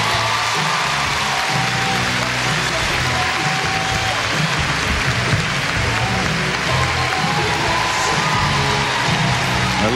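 Dense, continuous applause from an arena crowd at a gymnastics world championship, honoring gymnast Oksana Chusovitina, with scattered cheers and whoops mixed into the steady clapping.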